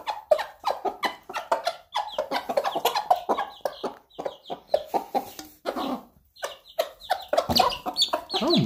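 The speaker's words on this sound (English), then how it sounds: "Oh my, the chickens are going nuts!" A flock of chickens clucks and squawks excitedly close by, a busy overlapping chorus of sharp rhythmic calls with brief lulls.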